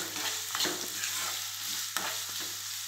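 Mutton and onions sizzle in hot oil in a pan, a steady close frying hiss with occasional stirring scrapes and no talking.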